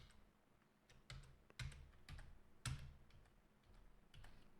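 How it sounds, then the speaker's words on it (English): Arrow keys on a computer keyboard tapped one at a time, about eight separate close, crisp clicks at an uneven pace in a quiet room with no talking. "I'm just using my keyboard, up and down arrow keys."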